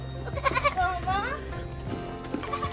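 Goats bleat in wavering, nasal cries close by, with a child and an adult talking over and between the calls.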